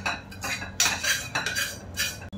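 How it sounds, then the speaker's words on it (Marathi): A utensil stirring Maggi noodles with masala in a pan, giving repeated scraping and clinking bursts of metal on metal in an uneven rhythm, close and clear. "सो आता जे आपण मिक्सर टाकलं याच्यात मॅगीचं, ते नीट मिक्स करायचं आहे"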